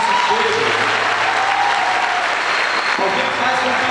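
A large church gathering at a Rebanhão event fills the space with loud, continuous audience applause, a thick wash of clapping and crowd noise that holds steady from start to finish.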